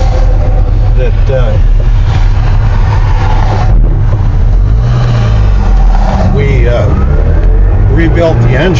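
A Subaru 360 truck engine runs steadily throughout, a continuous loud low drone with shifting pitch, and a voice talks over it.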